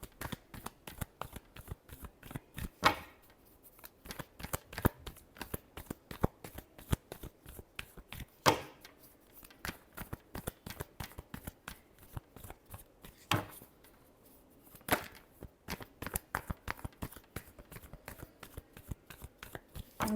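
Tarot cards being shuffled in a tarot reading, a rapid run of crisp riffling flicks and taps close by, coming in bursts with short gaps, no voices.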